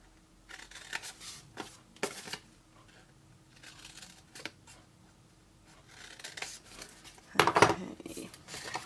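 Scissors snip through card stock for a decorative 3x3 card box, a few separate crisp cuts and rustles with papery handling between them, close and fairly quiet, the loudest burst of snipping near the end.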